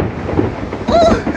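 Thunder rolls outdoors ahead of rain, a loud, broad rumble that swells near the end with a faint tonal whine riding on top.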